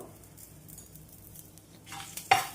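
Curry leaves fry in oil for a garlic lentil powder, a faint low sizzle that swells near the end with a sharp metallic clink of a utensil against the pan, close and without talk.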